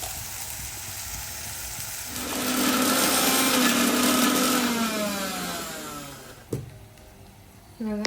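A mixer grinder whirs as it grinds browned onion into a paste, its motor rising into a loud steady whine after about two seconds, then slowing and stopping near the end, followed by a brief clatter.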